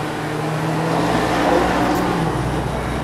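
Car pulling hard through second and into third gear on the Anglesey race circuit in North Wales, a steady loud engine drone with rising pitch heard from inside the cabin.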